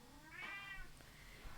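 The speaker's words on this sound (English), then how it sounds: "Oh, baby cat. What you doing?" A pet cat gives a single drawn-out meow, faint and close, against quiet room background with no talk.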